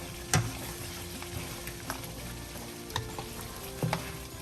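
Goat head and brain fry in a pot, a faint, steady sizzle broken every second or so by the sharp scrape of stirring against the metal.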